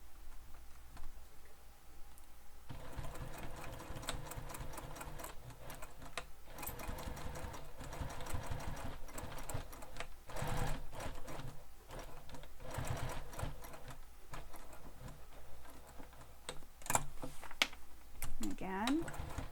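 A sewing machine runs in steady bursts while stitching a crossbody bag, its rapid mechanical needle clatter close and fairly loud, with brief pauses between runs and a faint voice underneath at times.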